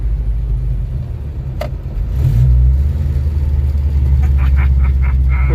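A car engine idles with a rough, lumpy rumble, then revs up around the midpoint and settles into a louder, steady drone with some faint background clatter; close and loud, no talk.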